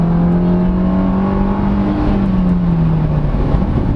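A 2024 Suzuki Dzire GL+ AGS sedan accelerates with its automated gearbox, a loud close engine hum climbing and dipping in pitch between gear changes, with no talking.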